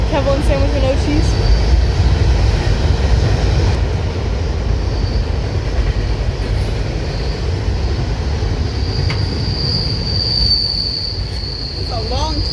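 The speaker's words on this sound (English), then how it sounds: "It's a long train. Long and loud." A long freight train rumbles past loudly and steadily, with metallic wheel squeal rising over the heavy rolling noise and a few brief voices near the start.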